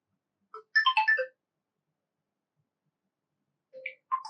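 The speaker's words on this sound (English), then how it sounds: "Now just select a ringtone from your device." An Oppo A5x phone plays a ringtone preview: a short bright run of synthesized melodic notes, then silence, then another brief snippet of chimes starting near the end.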